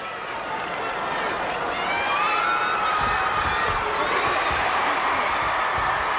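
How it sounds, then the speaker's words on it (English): Crowd noise at a 1997 IHSAA semifinal high school basketball game, sustained cheering and applause from a packed gym swelling slightly, with a commentator talking over it. "It's a well-deserved round of applause and congratulatory hug."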